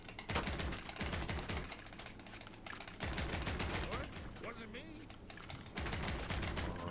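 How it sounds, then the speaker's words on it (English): Paintball gun fire in Disney Infinity: rapid bursts of sharp, snapping shots in quick volleys, separated by short lulls and softer in-game effects, all at fairly even loudness. "you don't have to use your paintball gun"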